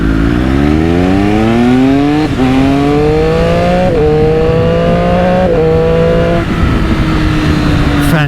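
A 2020 Triumph Daytona 765 Moto2 motorcycle pulls away hard. The close, loud engine note climbs steadily through several gear changes, with brief dips at each shift.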